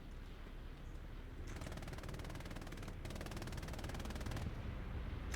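Rapid machine gun fire in a combat video game rattles in long continuous bursts, broken by a brief pause, over a dense background rumble.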